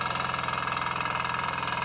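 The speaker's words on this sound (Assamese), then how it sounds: "আৰু এয়া সৰিয়হ ছটিওৱাৰ পিছত এখন মিনি ট্ৰেক্টৰ লগোৱা হৈছে।" A mini tractor engine runs steadily in a mustard field, a close, even, pulsing mechanical drone with no talk.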